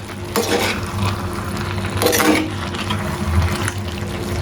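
Koorka aviyal made with Chinese potato, coconut oil and curry leaves is stirred in a pan, with a soft sizzle and wet scraping strokes of a spoon, a couple of louder swirls, close by and without talk.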